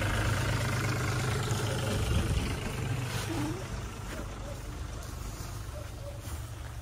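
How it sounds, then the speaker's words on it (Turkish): A tractor engine rumbles low and steady on a farm, a continuous mid-level drone that sits in the background and slightly fades partway through, with faint voices and scattered background sounds around it. "Hatta şimdi bir traktör geliyor."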